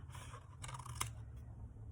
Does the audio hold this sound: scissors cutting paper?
yes